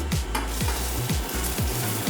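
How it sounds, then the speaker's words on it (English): Seeds sizzle in hot oil for a spicy chili crunch, a steady frying hiss broken by repeated rhythmic scraping strokes as the pan is stirred, close and moderately loud with no talking. "Hear that? Sizzling?"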